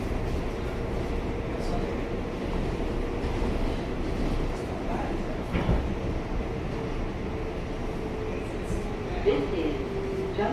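A subway train rumbles steadily along its tracks in a low, continuous roar, with faint rattles and squeals and a voice talking over the noise.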